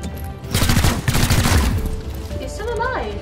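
Bursts of rapid weapon fire from the tactical video game XCOM: Chimera Squad rattle loudly for about a second and a half, then fade as a short voiced sound rises near the end.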